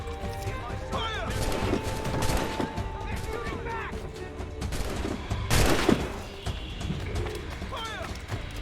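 Musket volleys crack out in Assassin's Creed Rogue, repeated bursts of gunfire layered with shouted orders, crashes and clatter, loud and dense throughout, with people talking over the shots.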